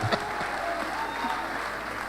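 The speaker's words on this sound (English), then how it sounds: "a round of applause." Applause from an audience at a medical graduands' induction ceremony at a college of health sciences, a steady, fairly quiet patter of many hands that holds evenly throughout.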